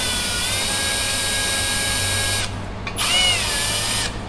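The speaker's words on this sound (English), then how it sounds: "all you can hear is the sound of the drill" A power drill whines steadily and close while working on the valves of a 6.2-liter supercharged HEMI engine, a high sustained tone that cuts out briefly and then spins back up.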